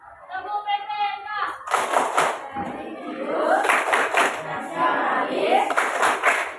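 Primary school pupils in an Indonesian classroom performing a rhythmic clap chant, bursts of group clapping mixed with children chanting aloud, fairly close and lively.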